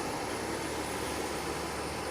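An aircraft circling near Nagasaki Airport, a steady broadband engine roar that holds even and unbroken throughout, heard at a distance.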